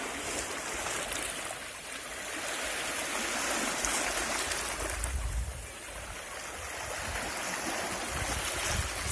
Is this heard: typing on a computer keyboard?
no